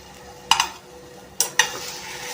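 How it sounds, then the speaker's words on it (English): Chicken seekh kebabs fry in a pan, giving a faint low sizzle broken by a few sharp clinks and scrapes as they are turned, with no talk. "Turn it slowly and fry it on all the sides."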